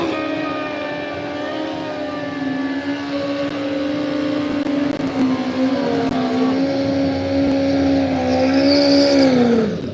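A racing motorbike ridden at a bike shakedown revs with a sustained, rising and falling engine whine, pitch bending down near the end as it passes close and loud.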